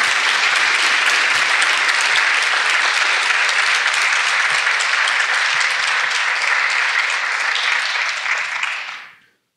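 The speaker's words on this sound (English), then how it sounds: "Clap it up." A crowd at a live event gives a loud, sustained round of applause, a dense roar of many hands clapping at once that holds steady for about nine seconds before cutting off abruptly.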